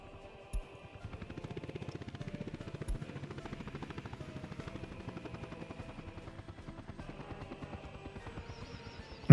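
A helicopter in the city-building game Workers and Resources: Soviet Republic, a steady rapid rotor chop thrumming evenly for several seconds, moderately loud and alone, with a couple of brief clicks and a sharp sound at the end.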